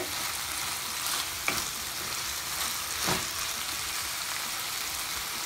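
Pepper chicken frying in a pan, a steady close sizzle with a couple of brief scraping stirs.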